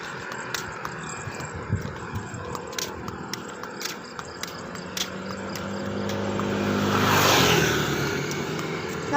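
A vehicle passes by, its engine swelling from faint to loud and peaking near the end, following a stretch of scattered small ticks and clicks.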